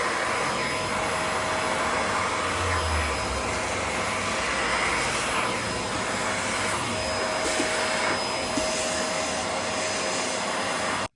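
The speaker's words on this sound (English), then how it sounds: "clean the inside with a vacuum and a damp cloth if needed" A vacuum cleaner drones steadily up close while cleaning inside a SNOO baby bassinet, a continuous whining roar with slight shifts as the nozzle moves around.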